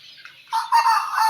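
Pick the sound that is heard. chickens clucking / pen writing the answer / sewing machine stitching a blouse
chickens clucking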